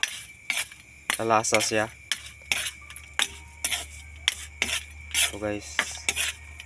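A metal utensil scrapes and clinks against a pan while stirring exotic meat seasoned with salt and Magic Sarap, cooked without added oil. Irregular clatters and scrapes come close up, with brief talk between them.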